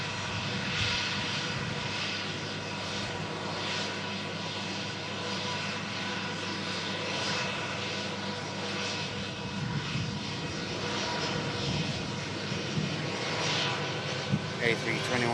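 Lufthansa Airbus A321-200 arriving at an airport: a steady, loud jet engine roar that holds for the whole stretch, with voices talking over it.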